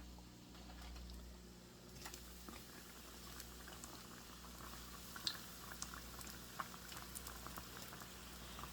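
Half-cooked bread pakodas returned to hot oil for a second fry give a quiet, steady bubbling with scattered small pops and crackles, close by and without speech.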